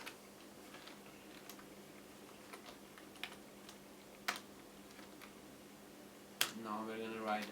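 Scattered keystrokes from a computer keyboard while Python code is being typed, soft irregular taps at a steady low level with a louder burst near the end where a voice briefly speaks.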